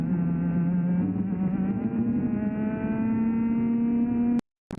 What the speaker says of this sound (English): listen the engine when braking and when accelerating